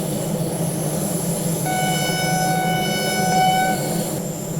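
DB BR 612 diesel tilting train in Train Sim World 2 sounds a sustained two-tone horn lasting about two seconds over the steady rumble of the running train, loud and close.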